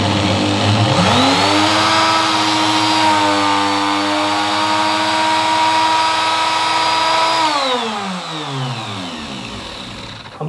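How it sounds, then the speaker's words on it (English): An electric wood router spins up to a high whine, holds a steady loud pitch while climb-cutting a round-over on wooden corners, then winds down. "Put a nice round over on all these corners with a router."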